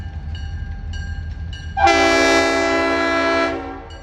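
A freight train hauled by three SD40-2 diesel locomotives passes, with a faint rumble at first, then a loud, sustained multi-tone air horn blast that fades out. No speech.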